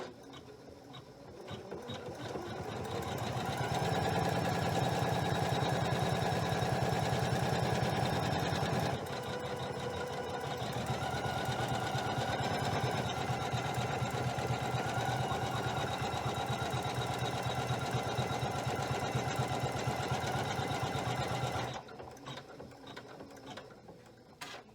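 A Janome 500E embroidery machine runs a placement stitch, buzzing with a fast, even mechanical rattle that holds steady for about twenty seconds, shifts pitch midway and then stops, close and with no talk.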